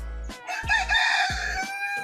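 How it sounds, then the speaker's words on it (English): A rooster crows loudly and close, with short clucks from chickens between the calls, no talking. "They're our family's chickens."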